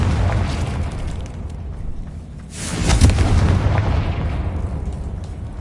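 Spell explosions from Confringo and Bombarda in the video game Hogwarts Legacy, a sustained rumbling roar that swells into a loud, booming burst around the middle and then rolls on as a dense low blast with no voices.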